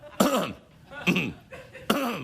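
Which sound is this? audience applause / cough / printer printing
cough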